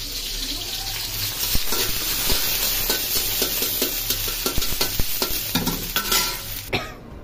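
Ginger-garlic spice paste frying in hot oil, a loud, close, continuous sizzle broken by brisk scraping stirs of a spatula in the pan.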